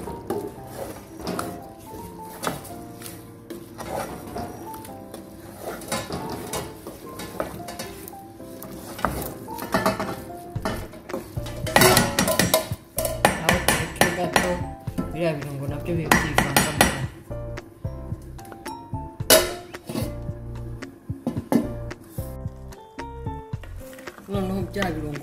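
A spoon stirs isombe, cassava leaves, in a cooking pot, giving repeated metallic scrapes and clanks over a faint sizzle, with occasional bursts of louder clatter and a little talk in the background.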